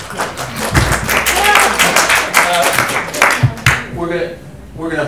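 Audience applause in a university ethics discussion hall, a burst of clapping that swells and then tapers off, with voices talking over it near the end.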